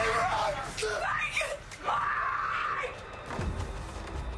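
A woman screams in a Friday the 13th (2009) slasher film scene, loud sustained wailing cries that rise and fall before a heavy thump near the end.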